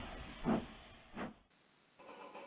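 Steam locomotive hissing as it sets off hauling a goods train on a main line, two broad bursts of steam over a steady high hiss before it cuts away to a quieter, muffled scene.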